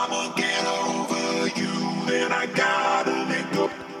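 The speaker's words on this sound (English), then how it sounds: "Another way to keep your Splice vocals interesting is to use a" Splice vocal sample run through a vocoder, giving a synthetic, chord-like robotic singing voice with steady harmonic layers and sharp phrase breaks, loud and continuous over four seconds.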